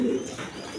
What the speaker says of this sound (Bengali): প্রথমে এক পেয়ার রাসগোল্লা কবুতর দিয়ে শুরু করতেছি।